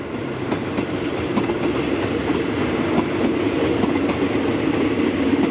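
A long freight train hauled by two locomotives rounds a curve near Bang Sue, its wagons rumbling and clattering past steadily and fairly close, with wheels clicking over rail joints throughout.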